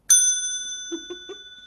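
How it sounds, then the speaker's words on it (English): A small hand bell rings once with a clear, sustained metallic tone that slowly decays, followed by a few soft, low thuds nearby. "I think I'm going to ring the bell one more time."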